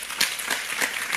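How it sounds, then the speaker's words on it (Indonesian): An audience at a religious talk claps together in a short, brisk burst of dense, moderately loud applause that fills the room briefly. "Bertahap ya, tepuk tangan ya."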